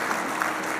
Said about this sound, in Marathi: पन्नाशीच्या नंतर वा जरा टाळ्या वाजवताना मोकळ्या हाताने वाजवा.